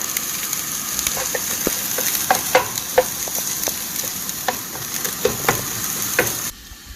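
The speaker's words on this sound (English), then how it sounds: "Got the aromatics just sauteing nicely here. Garlic, ginger, onions, lemongrass." Garlic, ginger, onions and lemongrass sauté in a pan at an outdoor backwoods cookfire, with a steady sizzle and repeated sharp stirring clicks and scrapes, ending abruptly.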